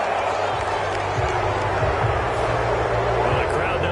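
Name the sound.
crowd reacting to a penalty in a football video game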